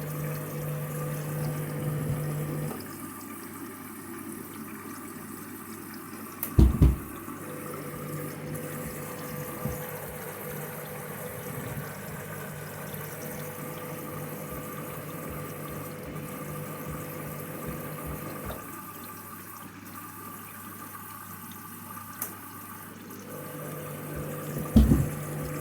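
A washing machine drains water mid-cycle, with a steady pump drone and gurgling water running continuously, broken by a few sharp clunks, and no talking.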